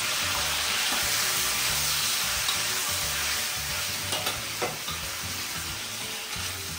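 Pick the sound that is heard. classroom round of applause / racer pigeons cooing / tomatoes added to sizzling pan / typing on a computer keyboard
tomatoes added to sizzling pan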